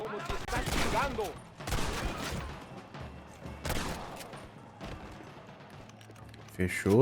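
Rapid bursts of gunfire in Red Dead Redemption crackle in loud volleys, with explosive thuds and busy game sounds throughout.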